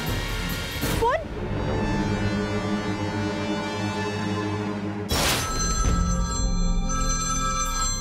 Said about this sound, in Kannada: ಫೋನ್